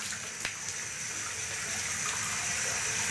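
Lukewarm tap water runs steadily while a guinea pig is being rinsed in a bath, a close, continuous gushing and splashing stream with no talking.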